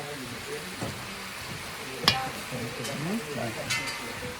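Chicken and green beans frying in a pan, a steady close sizzle with stirring clatter and a sharp burst as water is poured in to deglaze, while a person talks over it.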